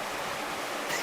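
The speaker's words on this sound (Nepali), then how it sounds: "चिसो मूलको पानीको खोला सर्र हावा चलेख" A cold spring-fed stream at an outdoor hangout spot near Pokhara, heard as a steady, close rushing of water with even broadband noise and no voices.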